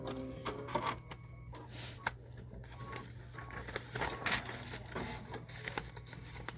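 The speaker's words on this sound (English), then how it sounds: "we are going to stitch the scallop background tack down line" An embroidery machine stitching a scallop background tack-down line, its steady rapid needle chatter and motor hum running continuously with small clicks, close and unaccompanied by talk.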